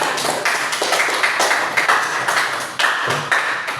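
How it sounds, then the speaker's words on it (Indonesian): Schoolchildren in a classroom clap their hands together in a loud, fairly steady rhythm, with sharp bursts of close claps and no talking. "Oke, tepuk tangan dulu untuk kita."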